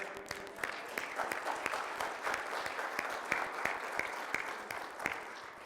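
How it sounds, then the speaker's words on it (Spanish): A church congregation claps together in steady, sustained applause for several seconds, with moderately near claps forming an even rhythm and no talking. "Un aplauso para el Señor."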